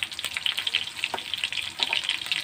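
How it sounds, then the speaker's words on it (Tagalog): Chopped ginger and onion fry in a pan for chicken-neck adobong sitaw, giving a steady close sizzle with bright crackling pops and a few stirring scrapes, with no talk over it. "Sunod natin ang ating sibuyas."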